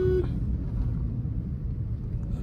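A 2012 Suzuki Swift VDI diesel engine pulls under load, a steady low rumble and drone with a brief tone at the start, loud and continuous without talk.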